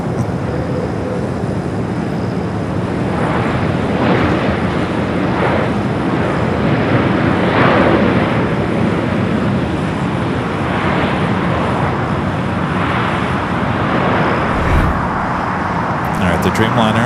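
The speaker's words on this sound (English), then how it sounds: "The Dreamliner heading into the gates of Tom Bradley" A Boeing 787 Dreamliner taxis toward the gates of the Tom Bradley terminal at LAX, its engines giving a steady, broad rumble that holds level throughout, with some surrounding airport noise and a few people talking.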